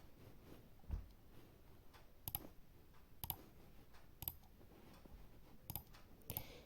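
Arabic letters tapped out on a phone's on-screen keyboard while searching a hadith app: soft, sparse clicks come in a slow, irregular sequence against a quiet background, with no voices.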